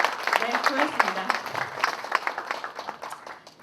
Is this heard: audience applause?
yes